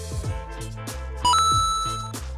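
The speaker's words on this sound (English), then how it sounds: "you will either hear the bold enough bell" A game-show style bell or beep sound effect on a live sports talk radio show, a short bright tone with a sustained ringing chime that rises and then gently fades over about two seconds, with a low background bed underneath.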